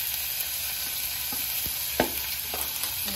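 Finely chopped onions, green chilies and capsicum with mustard seeds and curry leaves sauté in an oil-free pan, giving a soft, steady sizzle with several sharp spoon-stirring knocks, close and without speech.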